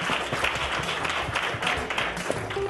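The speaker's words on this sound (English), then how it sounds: "Give everyone a round of applause." Applause from an audience at an Endeavor entrepreneur gathering, a steady dense patter of many hands clapping that stays even and fairly loud for the whole short stretch.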